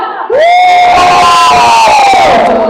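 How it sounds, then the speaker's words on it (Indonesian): A church congregation at a prayer concert shouts together in unison: one loud, sustained collective cry that swells abruptly and holds, with cheering voices mixed in. "Mari berteriak sama dengan saya."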